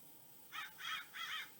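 Blackbirds in a cornfield give three harsh, raspy caws in quick succession. The bursts are moderately loud, with no voices.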